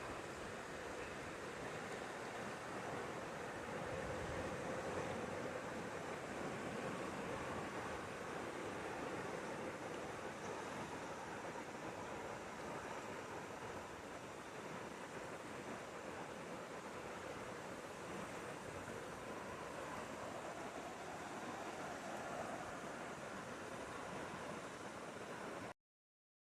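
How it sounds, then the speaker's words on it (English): Steady rushing water flows continuously at an even, moderate level, a broad constant wash with no voices. "let you just look and listen to the river and the birds for a second"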